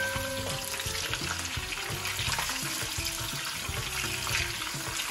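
Sidol dried fish sizzles steadily in hot oil, a dense crackling fry with scraping stirs throughout, close and continuous with no talking.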